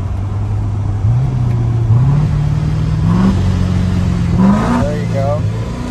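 A 750HP Procharged C7 Corvette accelerates hard, the engine note climbing in repeated rising sweeps with quick paddle shifts between them, loud and close inside the car, while people talk over it.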